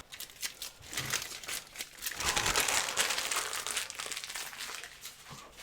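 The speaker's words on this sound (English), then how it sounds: "when you peel the long pieces off, it helps the short pieces come off" Masking tape peels away from the fretboard of an Antoria Jazzstar EG794BK archtop guitar with crackling, crinkly tearing that swells in the middle and carries on in short bursts, close and fairly quiet, with no talking.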